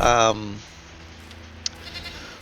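A goat in the video game Enshrouded gives one short, loud bleat at the very start, followed by quiet ambient game sound.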